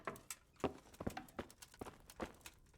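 Horse hooves clip-clop in a steady walking rhythm in the video game Kingdom Come: Deliverance, each hoofbeat distinct and fairly close, with no talking.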